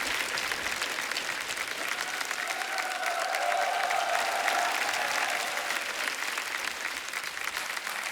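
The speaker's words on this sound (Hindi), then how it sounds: "जोरदार तालियां हो जाएगा।" Studio audience on a television comedy show bursts into loud, sustained applause, a dense steady roar of clapping hands lasting several seconds with no break.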